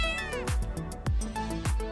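A cat meows several times in quick succession, with descending wavering cries that are close and fairly loud against a quiet background.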